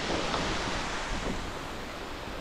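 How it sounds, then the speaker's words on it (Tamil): Steady, close rushing water flows over rock at a remote forest waterfall, a constant broadband wash with no voices. "இந்த பக்கமும் தண்ணி ஓடி வருது"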